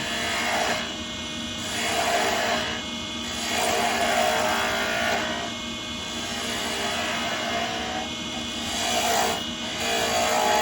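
A spindle gouge cuts wood turning on a lathe, a continuous scraping, rasping hiss that swells and fades in a slow rhythm as the tool moves back and forth, loud and close throughout.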